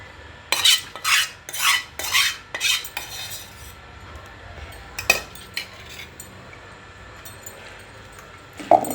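Tomato chutney being mixed with pounded green chillies in a village-style kitchen, a run of sharp metallic scrapes and clinks of a spoon against a vessel for a few seconds, then quieter occasional taps and one last clink.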